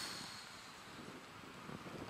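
Wind blows across a bivouac campsite at dusk, a steady rushing buffet against the microphone, with no talk.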